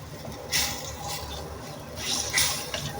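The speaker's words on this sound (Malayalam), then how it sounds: "എന്നിട്ടിത് നന്നായി തിളച്ച് വരണം." Ginger curry with tamarind water bubbling in a pan, with a soft, continuous watery simmer and occasional louder surges of bubbling, and no talking.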